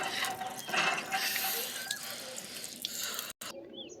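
A hand water pump is worked steadily until water starts flowing, giving a continuous creaking, gurgling wash of mechanical and splashing noise with a brief cutoff near the end.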